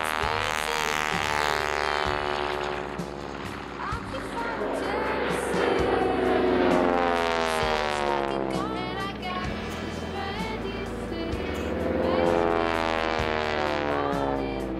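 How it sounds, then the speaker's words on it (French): North American T6 Texan propeller plane with a Pratt & Whitney radial engine, a loud throbbing drone with rising and falling pitch as it passes close, no talking. "là on passe à du plus nerveux avec le North American T6 Texan ou T6."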